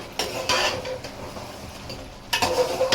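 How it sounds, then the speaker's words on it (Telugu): A spoon scrapes and stirs biryani masala in a pot, made with Kurnool Sona rice, producing two close bursts of metallic clinking and scraping separated by a quieter pause, with faint sizzling underneath. "ఇప్పుడు మసాలాలు వేసిన తర్వాత ఒక్కసారి మరి కలుపుకున్నానండి నేను ఇలాగా"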